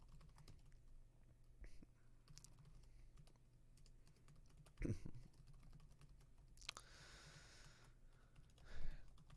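Typing on a computer keyboard, quiet scattered key clicks in irregular bursts, with a few louder knocks and rustles along the way.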